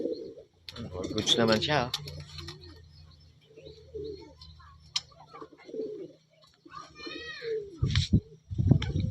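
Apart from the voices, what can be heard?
pigeons cooing, racing pigeon dropper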